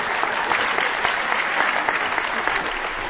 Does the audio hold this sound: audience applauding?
yes